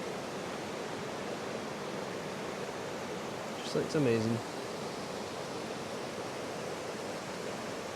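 River rapids at Glen Orchy in the Scottish Highlands pour over rocks, making a constant, loud broadband roar throughout, while someone briefly speaks over the water halfway through.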